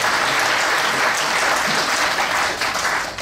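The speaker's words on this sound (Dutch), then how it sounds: "Applaus, dat mag, ja precies." A room applauds steadily and loudly through a municipal installation ceremony for the new mayor of Heerlen, the clapping tapering slightly at the end.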